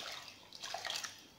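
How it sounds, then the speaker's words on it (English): Water is poured into a pot over pieces of cassava for boiling, a short, soft splashing and trickling pour at close range. "So I'm adding water just to cover it a bit,"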